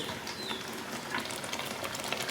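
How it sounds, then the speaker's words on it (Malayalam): Two spoons of ghee go into a pan of jackfruit for payasam, raising a brief, steady close sizzle and hiss with light scraping, no speech. "2 സ്പൂൺ നെയ്യ് ഇപ്പോൾ ഇടുന്നു കേട്ടോ"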